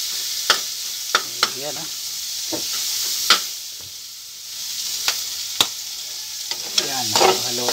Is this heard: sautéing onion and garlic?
yes